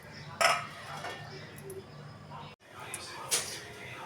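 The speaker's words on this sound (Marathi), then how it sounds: "आता मी झाकण ठेवून देते" A lid set onto a pot of washed barnyard millet left soaking produces two short metallic clinks a few seconds apart over a quiet background.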